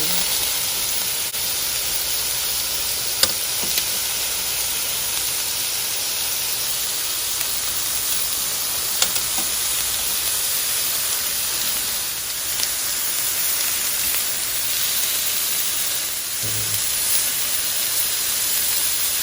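Shrimp skewers sizzle on a grill in a steady, even hiss that runs unbroken throughout, with a few faint clicks and small pops along the way.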